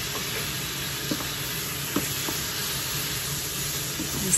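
Shrimp hitting a hot pan for chop suey, with a loud, steady hiss of frying and a few brief stirring clicks over it.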